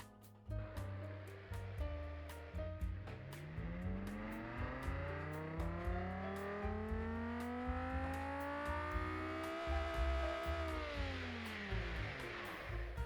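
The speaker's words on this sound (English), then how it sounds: "That's how V10 should sound like." A V10 engine revs up in a long smooth climb and holds high before easing back down, with sharp ticking clicks throughout.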